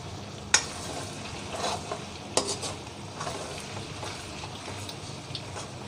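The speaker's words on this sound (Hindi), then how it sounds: "तो इसको भी मैं अच्छे से मिक्स कर लेती हूँ।" Pasta in a pan is stirred together with tomato ketchup, producing a low sizzle under soft scraping, with a couple of sharp clinks of the utensil against the pan.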